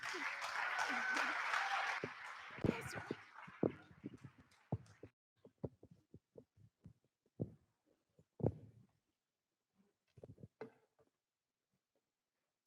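Audience applause welcoming speakers onto a stage at a literary festival talk, a dense sustained clapping from a crowd for about five seconds that thins into scattered, fading individual claps.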